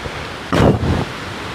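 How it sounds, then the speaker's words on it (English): Strong wind and ocean waves rolling in at a seaside spot in Pattaya, a broad roaring rush that swells loudly in the middle and then settles back into steady windy noise. "Strong winds, you can see the waves rolling in."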